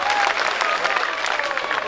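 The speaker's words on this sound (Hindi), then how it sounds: "उनके लिए भी मैं चाहूंगा जोरदार ताली से उनका स्वागत करें" Loud, sustained applause from a crowd at a public rally, continuous clapping filling the air as guests are welcomed at a bus stand gathering, with a voice faintly audible underneath.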